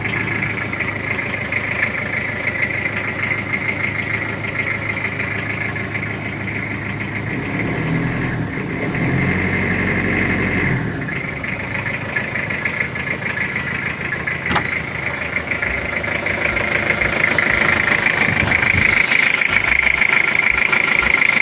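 A 2002 Toyota Kijang LSX diesel engine idles steadily with a low, rattling rumble, close by and continuous throughout, without talk.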